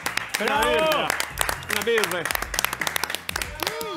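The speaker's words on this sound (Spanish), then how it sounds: "Aplaudir a Paco, chicos." A television cooking-school studio audience claps loudly for several seconds, while an excited voice shouts over it and further chatter follows as the applause breaks up.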